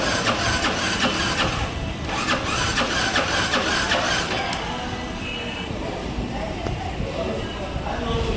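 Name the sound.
Yamaha R15 V4 motorcycle engine running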